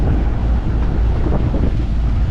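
Strong wind buffets the microphone aboard a sailboat on the Chesapeake Bay, a continuous loud rushing roar with gusty low rumble and no speech.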